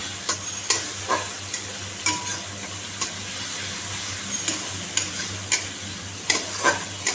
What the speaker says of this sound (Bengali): এখন মশলা কষাচ্ছি